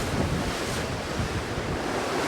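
Waves and strong wind in the open Southern Ocean aboard a racing sailboat, a dense, roaring rush of surf and wind buffeting the microphone, loud and unbroken with no voices.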